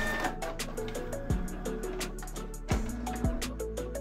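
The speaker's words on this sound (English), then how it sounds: "This is just how I do it with my printer." A home printer runs off planner pages, whirring and clicking mechanically with a few sharp low clunks and motor sweeps as paper feeds, steady and close with no talking.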